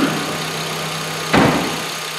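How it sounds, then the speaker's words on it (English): A car engine idles steadily with a constant low hum and vibration while the fuel pump relay is pulled, a brief louder clunk or rush midway, then the idle continues close by. "I'm gonna run the engine, pull that out, and the engine should quit by that being removed."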